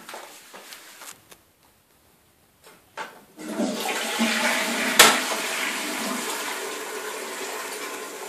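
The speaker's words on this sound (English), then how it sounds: "You wanna see the toilet?" A toilet flushes after a few scattered quiet clatters and a pause, rising into a loud rushing gush of water that holds steady and then keeps running as the tank refills, close by with no talk.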